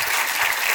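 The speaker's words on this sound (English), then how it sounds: "So a round of applause for Peter Bragg." A comedy festival audience in Melbourne bursts into steady, dense applause, a close, continuous wash of clapping hands with no gaps and no voices standing out.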